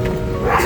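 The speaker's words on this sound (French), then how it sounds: "C'est un chien. Salut le chien." A dog gives a short bark or yip during a walk around London, brief and fairly loud over steady street noise, with no talk.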